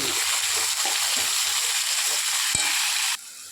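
Tomato, onion and coriander leaves sizzle and fry steadily in a hot pan, a dense close crackle throughout that drops off sharply near the end.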